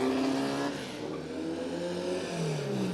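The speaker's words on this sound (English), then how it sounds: "Here comes Thomas Boniface, opting not to do a driver change now as we wait." A Formula First single-seater race car in a one-hour enduro at a New Zealand circuit, its engine note rising and falling as it passes, with continuous loud motor drone and other cars audible throughout.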